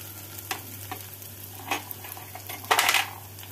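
Ginger and garlic paste fries in a pan over a medium flame with a soft, steady sizzle, a few stirring scrapes and a louder burst of sizzling near the end, with no talking.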